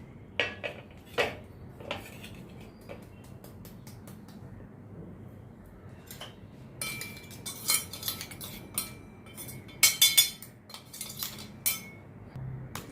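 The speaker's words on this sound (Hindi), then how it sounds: "अभी इसको मैं प्लेट में ट्रांसफ़र करती हूँ।" A coarsely ground spice mixture is moved onto a plate, with scattered metallic clinks and scrapes of utensils on cookware, a few early and a denser burst of sharp clatter later on, over a quiet background.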